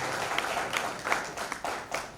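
An audience claps for a doctor at a local event, producing a soft, continuous patter of many hands with a few sharper claps standing out, heard at moderate distance.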